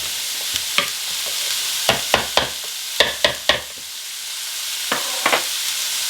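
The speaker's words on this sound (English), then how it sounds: "They're rinsed, they're drained, they're ready to mash. I use basically a potato masher." Goya chickpeas, rinsed and drained, being mashed by hand with a potato masher in a bowl for a vegan stuffed pepper filling, giving a series of short, close squelching thumps in quick bursts with brief pauses between.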